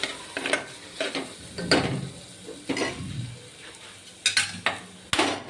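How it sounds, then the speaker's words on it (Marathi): Mutton masala sautés in hot oil in a home kitchen, with a quiet sizzle underneath and a spoon scraping and clinking against the pan in irregular strokes, close by. "त्याच्यामध्ये थोडासा तेलात परतवून घ्यायचं"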